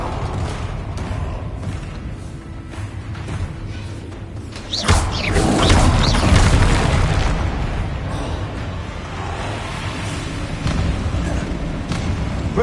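A fire-blast spell in a video game bursts with a loud, low boom that swells and rumbles for several seconds before easing into a steady, dense roar of game effects.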